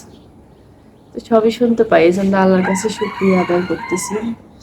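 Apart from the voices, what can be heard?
rooster crowing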